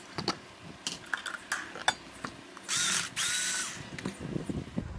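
Power screwdriver working a reverse-threaded screw loose from a stand fan motor, with short whirring bursts between clattering metal handling noises, close by and fairly quiet, no talking.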